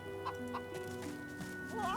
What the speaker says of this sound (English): Oh no, demonic chickens.